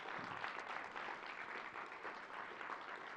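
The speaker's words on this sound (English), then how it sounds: "How about another round of applause for those amazing." Sustained audience applause at a world premiere film screening, a steady dense wash of clapping filling the room throughout with no pauses and no voices on top.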